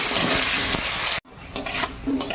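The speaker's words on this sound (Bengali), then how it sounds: "আলুটা ভেজে নেব" Potatoes fry in oil in a pan in a village kitchen, a loud, dense sizzle with stirring that cuts off abruptly, then lighter crackling resumes.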